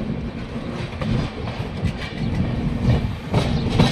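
A Humsafar Express passenger train runs along rails on a single-line section near Pali Marwar, giving a steady low rumble with faint rhythmic wheel clatter, heard from inside the carriage without talk.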